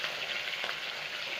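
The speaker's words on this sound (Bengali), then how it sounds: "এখন এটাতে দিয়ে দেবো কাঁচা লঙ্কা কুচি" Chopped green chillies frying in hot fish oil in a pan, a continuous close sizzle and crackle holding steady at a soft level, with no voices.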